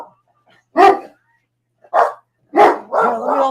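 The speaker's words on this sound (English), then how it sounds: "Here, let me hold that dog." A dog gives a few loud, close barks, single yaps spaced apart followed by a longer whining bark, with silence between them.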